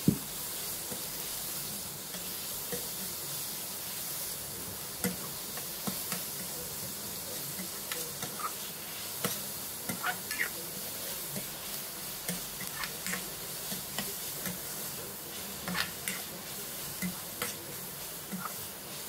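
Quiet steady sizzle of spinach sautéing in butter in a pan, with light scattered ticks and stirring clicks throughout.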